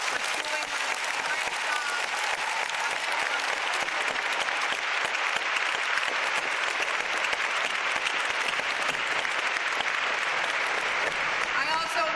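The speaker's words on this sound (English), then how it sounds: "I want to give her another round of applause" A large crowd at the Pennsylvania Women's Conference applauds loudly and continuously for over twelve seconds, a thick, even roar of clapping with no break.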